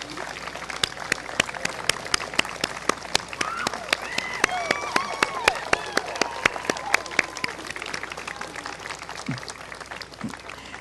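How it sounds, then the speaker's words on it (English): Standing ovation from a large commencement crowd honoring parents, families and friends, sustained dense clapping with crisp individual claps and scattered cheers throughout. "Shall we give our parents, families, and friends out there a standing ovation?"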